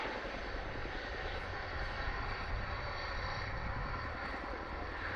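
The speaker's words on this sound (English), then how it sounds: "the best noise in the world is that bit of blade slap" Steady, loud Chinook HC.5 helicopter rotor noise with blade slap and a rumbling engine drone, continuous and close, during an air show display, no voices.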